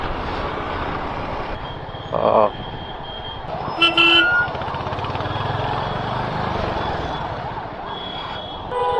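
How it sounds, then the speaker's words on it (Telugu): A vehicle horn that isn't working properly gives two short toots, the second a little longer, over a steady rumble of traffic and engine noise near Lakdikapul MMTS station in Hyderabad. "బండిది హారన్ కూడా సరిగ్గా రావట్లే."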